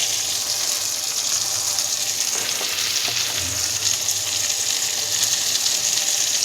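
Chopped onion hits a hot pan of chowmein and fries with a loud, steady sizzle, with occasional stirring scrapes and no voices.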